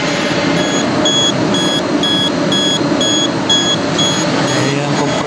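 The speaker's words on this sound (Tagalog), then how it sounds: "Ito yung error niya, nag-a-alarm." Error alarm on a machine control panel, a steady train of evenly spaced high electronic beeps repeating about twice a second over a constant mechanical hum.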